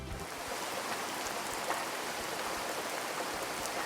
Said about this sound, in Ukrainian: це йде весняний дощик.